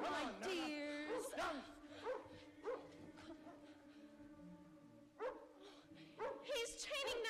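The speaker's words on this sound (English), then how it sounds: "That's not her unhappy bark. It's her bark when she smells danger." A dog's barks and yips from a stage production of Peter Pan, likely produced by a performer offstage, come in short bursts amid actors' dialogue and a sustained musical tone.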